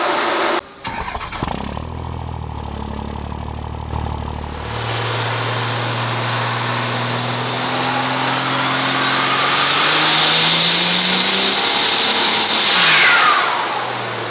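Built 6.7 diesel in a 2010 farm truck with a 48RE transmission swap, starting on a dyno, then running and climbing into a loud sustained pull with a rising turbo whistle before dropping off, close and powerful.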